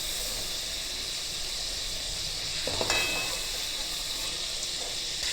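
Fish frying in mustard oil sizzles with a steady, fairly loud hiss, and a brief louder crackle flares midway as more fish hits the hot pan.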